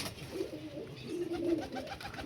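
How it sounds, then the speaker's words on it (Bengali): Malwai pigeons coo softly in a low, throaty burble, a couple of short bouts against faint background noise. "বেশিরভাগই হাজারওয়ালা পায়রা আছে, সব ফিট অ্যান্ড ফাইন পায়রা"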